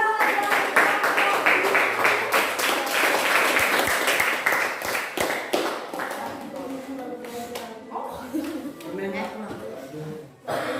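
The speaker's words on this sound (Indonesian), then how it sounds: "tepuk tangan untuk kelompok 3." A school class claps for a student group, loud irregular clapping that thins into scattered claps while voices talk underneath toward the end.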